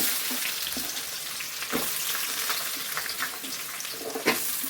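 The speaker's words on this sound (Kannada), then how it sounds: "ಹಸಿಮೆಣಸಿಕಾಯಿನ ನೀಟಾಗಿ ಎಣ್ಣೆಲಿ ಫ್ರೈ ಮಾಡಿಕೊಂಡ್ರೆ ಗ್ಯಾಸ್ಟ್ರಿಕ್ ಆಗೋದಿಲ್ಲ ಖಾರ ಕಮ್ಮಿ ಆಗುತ್ತೆ ಈಗ ಹೆಚ್ಚಿಟ್ಕೊಂಡಿರೋ ಈರುಳ್ಳಿ ಹಾಕೋತಾ ಇದ್ದೀನಿ" Chopped onions and green chillies fry steadily in hot oil, a continuous close sizzle with a few soft stirring bumps and no voices.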